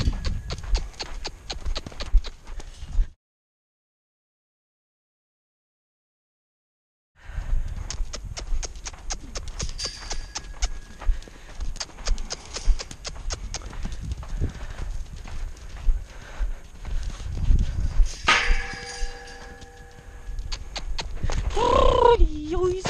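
A weanling colt's hooves thud and scuff around a round pen in irregular footfalls, broken by a silent stretch, with a faint whinny and some background voices near the end.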